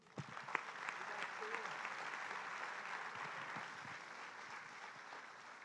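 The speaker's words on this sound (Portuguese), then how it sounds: "Dá um aplauso a Jesus." A church congregation applauds Jesus, a broad, even patter of many hands clapping at a distance, starting with a few sharp claps and then holding a steady, fairly quiet roar with faint voices mixed in.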